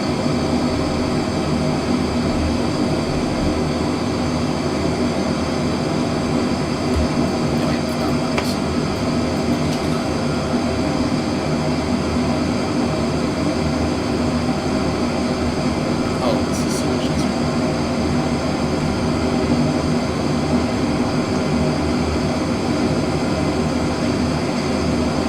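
Boeing 787 Dreamliner jet engines spooling at takeoff thrust in the flight simulator MSFS 2020, a loud, steady broadband roar held throughout with a constant low drone and no clear breaks.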